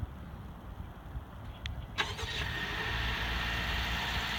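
A 2018 Honda CR-V engine starting by remote start: a brief cranking whir and catch, then the engine settles into a steady, moderately close idle with no talking.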